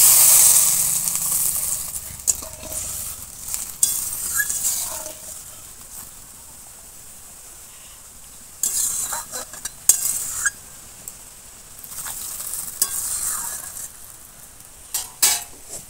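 Fried fish in a pan simmers and sizzles softly as soaked amchur (dried mango) water is poured in, with stirring and the clink of utensils, moderately near and without talk.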